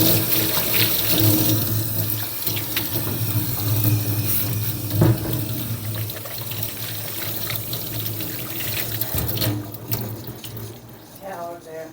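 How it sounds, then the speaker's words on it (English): Hands are washed under a running kitchen tap: a steady, close water rush and splatter into the sink, with voices talking underneath before the flow eases off near the end. "let me wash my hands"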